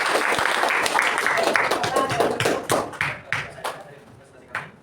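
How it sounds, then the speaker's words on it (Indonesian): Classroom applause from students, dense clapping that thins into scattered individual claps toward the end, with some voices mixed in. "Tepuk tangan."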